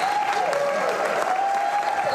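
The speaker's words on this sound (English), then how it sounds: "Everybody give a big round of applause to Sheila Johnson." Audience applause greets businesswoman Sheila Johnson at a Washington, DC event, a steady, dense wash of clapping filling the short stretch, with a sustained tone running beneath it.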